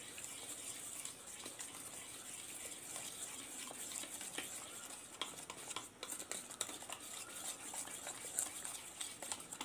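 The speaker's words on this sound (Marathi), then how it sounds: "मी इकडे हे बॅटर मिक्स करायला घेते आहे" Cake batter being mixed by hand in a bowl with a little added water: a steady, close stirring and sloshing texture with faint clinks of a utensil, continuing without pause and with no talking.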